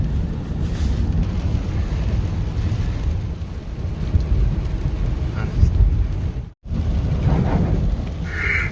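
Heavy rain drums hard and steadily on a car during a flooding downpour, a dense, loud roar that cuts out for a moment near the end and then resumes.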